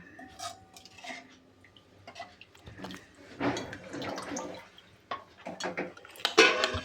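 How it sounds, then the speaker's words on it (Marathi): Water poured into a simmering coconut kofta curry gravy in a pot, with splashing, trickling bursts and some clinking of utensils, loudest near the end; no talk. "आपल्याला आवश्यक तेवढं पाणी टाकायचं. आपल्याला जेवढी ग्रेव्ही पाहिजे तेवढी."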